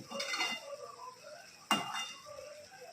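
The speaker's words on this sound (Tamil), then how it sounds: "இதை இப்படியே கைவிடாமல் நம்ம ஒரு 10 நிமிஷத்துக்கு வதக்கணும்" Ridge gourd being sautéed and stirred in a pan, heard as a few close metallic clinks and scrapes of a spatula against the pan, with one sharp knock, and no voices.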